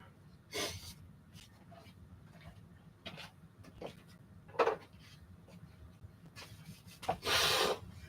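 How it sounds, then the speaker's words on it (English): Sanding parts of a model plane by hand, with quiet scattered rasping strokes, a few short bursts and one longer scrape near the end, close and faint against a soft background. "I'm going to continue to sand off camera"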